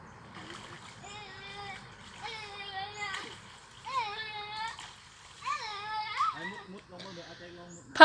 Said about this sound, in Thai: พาลูกอาบบ่อนน้ำไหลพุ่นนะเฮ้ย